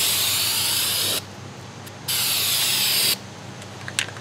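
Multicolor paint sprayed from a can onto an RV countertop outdoors on a windy day, in two steady hissing bursts of about a second each with a short pause between.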